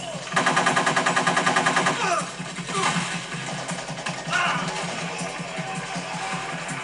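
Rapid automatic gunfire in the stealth action game Metal Gear Solid 3, a fast rattling burst of evenly spaced shots, then scattered shots and bursts amid game effects and voices.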